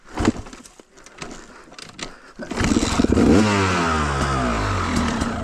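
A dirt bike on a trail at Calabogie makes a few clattery attempts, then its engine catches and starts, revving loudly up and settling into a steady, buzzy idle close by, with no speech.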